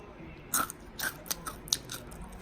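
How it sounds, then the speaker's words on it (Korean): Homemade bacon chips, quickly microwaved and shriveled dry, bitten and crunched close up in a short series of five or six crisp, brittle snaps, each distinct against a quiet background with no talking. "즉석 베이컨 칩. 먹어볼게."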